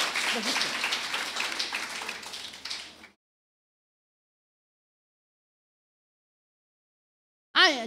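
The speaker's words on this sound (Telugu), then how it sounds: "అయినప్పటికీ కూడా క్లాప్స్ కొట్టండి" An audience at a women's church gathering claps for about three seconds, a quick uneven burst that fades out, followed by silence and then a brief voice at the end.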